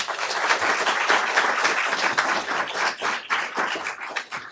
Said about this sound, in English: So how about another big round of applause for the Principal Folveri for Henderson and Miss Martin and Miss Sari, please